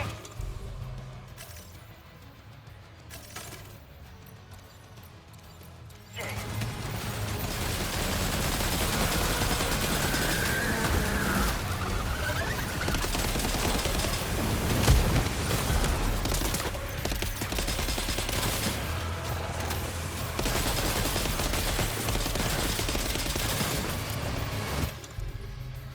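Sustained volleys of gunfire in the video game Death Stranding 2, dense bursts and rattling shots layered over a loud continuous battle din that swells after a quieter opening, with no voices heard.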